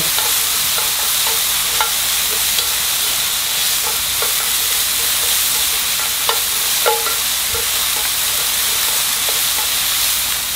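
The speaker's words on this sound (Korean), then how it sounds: "뜯어놓은 망가닥 버섯 넣고 볶아주세요. 버섯에 수분이 있어서 불은 센 불로 볶아주세요" Shimeji mushrooms stir-fry over high heat in a steady, loud sizzle and hiss, with occasional light spatula taps against the pan; no talking.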